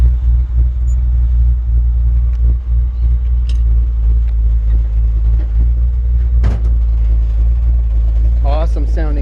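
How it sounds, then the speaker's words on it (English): A 1964 Chevrolet C10 pickup rumbles steadily while driving slowly, a deep continuous exhaust drone heard from inside the cab, with faint knocks and a short creak late on. "Awesome sounding exhaust"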